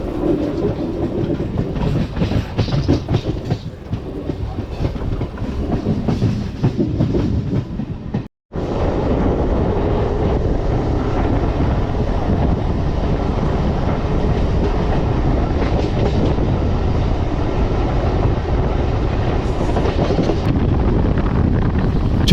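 MEMU passenger train 67204 running fast on the rails, a continuous loud rumble with rhythmic clickety-clack and wind buffeting the microphone, with one short dropout partway through.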